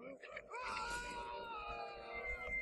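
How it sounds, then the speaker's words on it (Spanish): A character screams in Zelda: Majora's Mask, a high, wavering wail lasting a couple of seconds, with a steady game backdrop behind it. "Dios, ¿por qué grita?"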